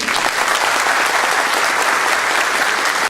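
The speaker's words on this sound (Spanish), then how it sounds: "le pido un fuerte aplauso jipijapense, manabite, ecuatoriano para la carrera de laboratorio clínico." Loud, close audience applause at a university health sciences conference in Jipijapa, Ecuador, a vigorous continuous burst of clapping from a crowd that cuts off abruptly at the end.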